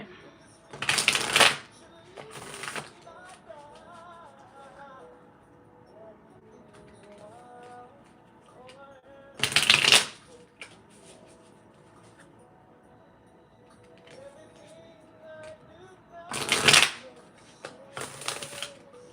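A new deck of tarot cards is shuffled in three loud, crisp riffling bursts spaced several seconds apart, with quiet stretches and faint background noise between them.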